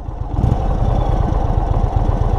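A 2022 Indian Chief Dark Horse cruiser motorcycle engine idles with one cylinder shut off, giving a loud, close, uneven low chugging throb that continues steadily throughout.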